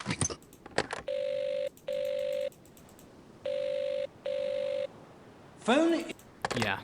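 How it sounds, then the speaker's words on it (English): A telephone rings unanswered in the mystery game Agatha Christie: Evil Under the Sun, four steady electronic rings in two pairs, with footsteps and other game sounds around them. "no one's gonna answer the phone"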